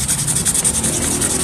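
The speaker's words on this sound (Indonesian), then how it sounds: "terus ini juga nih di amplas, ininya tuh menghilangkan korosi" A corroded starter part from a Yamaha Fino scooter being sanded, steady close abrasive rubbing in quick repeated strokes, loud and alone.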